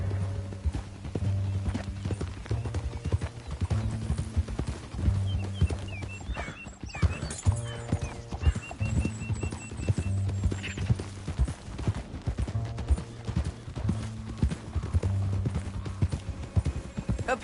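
Horse hooves clip-clop in a steady walking rhythm inside a PS4 western game, with an occasional whinny and a low droning musical score underneath, lasting the whole stretch.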